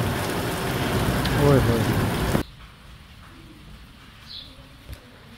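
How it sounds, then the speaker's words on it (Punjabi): Heavy rain pours down in a Kashmiri village, a dense, loud hiss for a couple of seconds before cutting to a much quieter background, with a brief voiced exclamation. "ਫਿਰ ਮੁੜੀ ਬਾਰਿਸ਼ ਸਟਾਰਟ ਹੋ ਗਈ ਹੈ"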